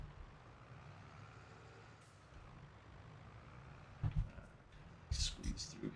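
A vehicle in Farming Simulator 2022 drives with a steady low engine hum, and a few short hissing and clunking bursts toward the end, under a player talking.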